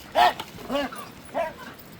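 A dog gives three short yipping barks in a quick, uneven sequence, close by and fairly loud, during an outing in the Carpathian mountains on the way to a cheese dairy.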